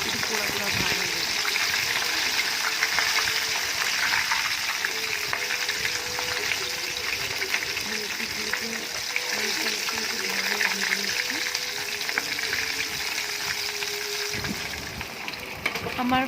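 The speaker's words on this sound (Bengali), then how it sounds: "আমি খুব ভালোভাবে এগুলোকে ফ্রাই করে নিয়েছি" Chicken pieces deep-frying in hot oil for KFC-style fried chicken, a steady, dense bubbling sizzle held close and loud throughout, with faint low background sounds and a slight drop near the end.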